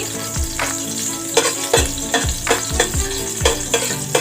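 Garlic sizzles and fries steadily in a hot pan while being stirred, with repeated scraping strokes of a utensil breaking through the continuous crackle, for an Egyptian-style macaroni dish.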